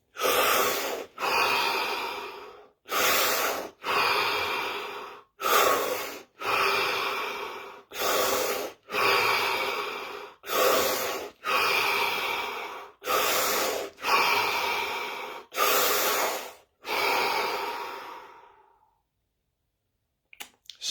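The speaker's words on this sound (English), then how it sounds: "We're now going to do 7 deep breaths" Slow, deep breaths drawn in and let out through the nose and mouth, about seven full cycles in a steady even rhythm, close and fairly loud, each breath a broad airy rush with short pauses between, before a quiet stillness.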